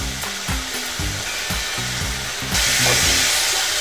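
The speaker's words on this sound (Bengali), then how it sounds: "পুরোপুরি যখন তেল ছেড়ে দেবে তখন মশলাটা কষানো আমার কমপ্লিট হয়ে যাবে" Spice paste for a Katla fish curry fries in oil with a steady loud sizzle, a stirring spoon knocking rhythmically against the pan, and a sharper hiss swelling up in the last second.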